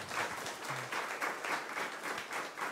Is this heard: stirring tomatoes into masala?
no